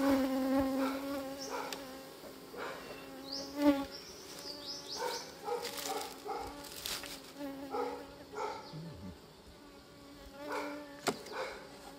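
Bees swarm around an opened hive in a steady, close droning buzz with shifting pitch as individual insects pass near, with occasional light clicks and handling noises.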